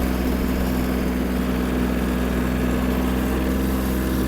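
A Yanmar AF-26 mini tractor's warmed-up diesel engine runs steadily while the tractor turns, a loud continuous hum with no talk over it.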